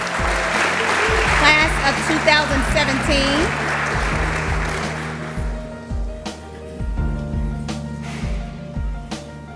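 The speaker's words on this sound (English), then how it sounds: "let's give another round of applause for our emerging executive" Audience applause at a leadership development program graduation, broad steady clapping from a crowd that fades somewhat midway, heard under a speaker's voice with music playing.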